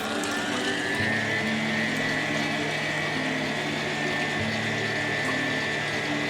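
An electric mixer whirs at high speed, beating egg whites with cream of tartar for a muffin batter, a constant close buzzing drone with no talk.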